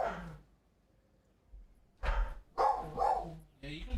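A dog barks a few times nearby in a farming game setting, short sharp bursts spaced apart, with a person's voice talking around the barks.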